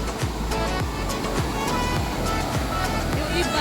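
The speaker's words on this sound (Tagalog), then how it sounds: "Tunog ng dagat." Sea waves wash and churn close by in a continuous, loud rush with a deep low rumble and no break.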